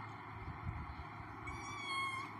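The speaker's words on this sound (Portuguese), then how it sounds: "Minha gata fominha." A hungry cat meows indoors, a soft drawn-out call followed by a higher, clearer meow near the end, faint and alone over a low background hum.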